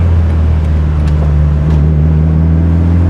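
Turbocharged car engine running at 21 psi boost through a chambered muffler, a steady deep droning hum with constant low tones and faint hiss, loud and unbroken, no talk.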